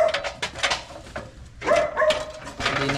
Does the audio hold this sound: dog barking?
yes